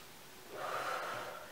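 A deep breath drawn in during a balance exercise in a physical education lesson, a single soft rising inhale that swells over about a second, close and alone.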